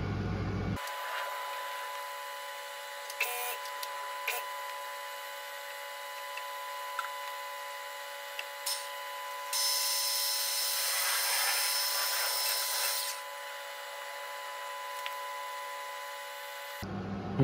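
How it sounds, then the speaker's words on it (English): A radial arm drill bores through a steel excavator bracket, a steady machine whine and hum running throughout with a harsher grinding rise in the middle, then stopping abruptly at the end. "we'll get the radial arm into place, and hopefully it drills through nice and easy"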